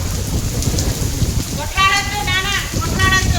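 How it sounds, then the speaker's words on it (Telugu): Steady heavy rain hisses throughout, with a low rumble underneath and brief voices rising over the downpour toward the end. "వర్షం పడుతుంది"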